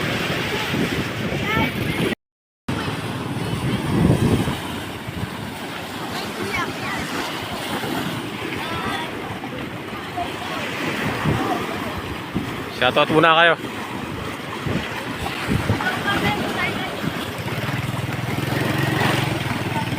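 Huge typhoon waves pounding the shore at General Luna, Quezon, a continuous heavy roar of surf with buffeting wind on the microphone, while someone talks over it throughout.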